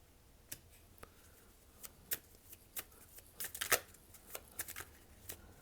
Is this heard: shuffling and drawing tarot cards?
yes